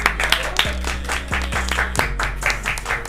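Clapping during a French live broadcast show celebrating a quiz winner, several distinct sharp claps over a thin applause bed, fairly close, with a voice talking over it.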